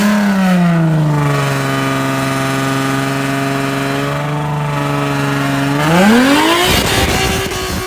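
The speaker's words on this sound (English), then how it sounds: "We got a Nissan GTR pulling up." A Nissan GT-R pulls up at a street track event. Its engine holds a loud, close, steady drone that dips slightly, then revs sharply upward near the end with a rising roar.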